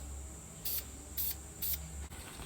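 Spray painting an even first coat in a mobile painting booth: three short, soft hissing spray bursts in steady succession over a faint constant background hum.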